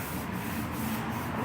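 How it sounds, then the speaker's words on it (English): Steady, close rubbing and scratching as a wooden side table is sanded, with soft rhythmic strokes rising and falling about every third of a second and nothing else in the background. "He's sanding."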